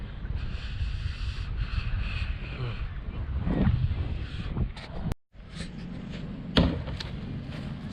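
Wind blows outdoors at the start area of a marathon before dawn, steady broadband rushing and buffeting on the microphone throughout, with a brief dropout and a sharp knock near the end.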